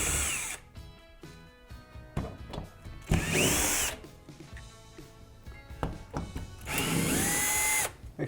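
A power drill spins out the screws holding a residential air duct grill, with three or four loud whirring bursts separated by brief pauses and handling clatter, close up, no talking.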